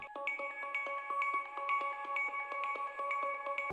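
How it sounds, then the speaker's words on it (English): A bright synth arpeggio plays quick, evenly spaced repeating notes in a steady looping pattern, clear and unaccompanied. "I put an ARP sample into it which sounds like this"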